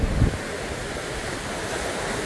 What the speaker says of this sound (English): these waves are much bigger, much more wind.